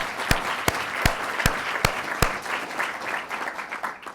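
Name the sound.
audience applause for Wendy Abrams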